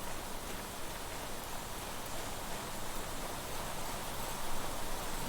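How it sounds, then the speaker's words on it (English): Heavy rain in the video game Planet Crafter pours down in a dense, steady hiss, constant and loud throughout, with no voices. "Man, it's a heavy rain."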